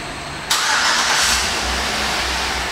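A 2010 Chevrolet Avalanche starts remotely while locked, a sudden broadband whoosh at half a second settling into a steady low engine hum and rumble that continues evenly to the end.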